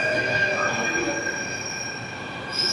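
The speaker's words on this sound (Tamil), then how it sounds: "இப்போ ஒரு ட்ரெயின் வந்து கிராஸ் ஆகுது." A Delhi metro train passes close by with high, sustained metallic wheel squeal ringing over a rumbling rail roar, no talking.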